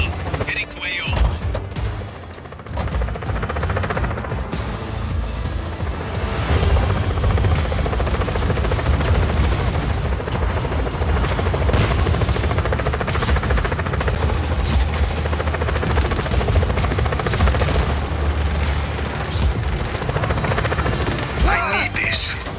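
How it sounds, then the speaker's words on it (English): A helicopter in the video game Just Cause 4 gives a steady loud rotor roar all the way through, mixed with bursts of gunfire and explosions, and a voice speaks now and then. "Helicopter inbound."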